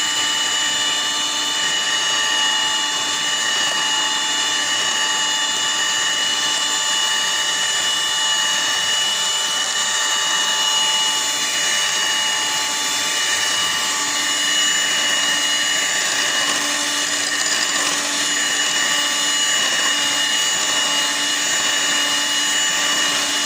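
An electric mixer beats nan khatai biscuit dough into a smooth creamy paste, a loud, steady motor whine with a constant high-pitched hum that runs without a break.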